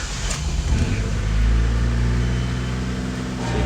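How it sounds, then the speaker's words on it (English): A 1986 Honda CRX HF engine cranking and catching, a loud close low rumble that swells and then settles into a steady idle. "so I'm gonna start the engine"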